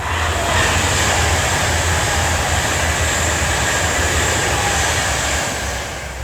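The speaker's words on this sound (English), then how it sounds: "That's 39047 for Avanti West Coast, heading down to London." An Avanti West Coast train, unit 39047, passes close by on its run toward London, a loud steady roar of wheels and rail noise holding for several seconds and easing slightly at the end.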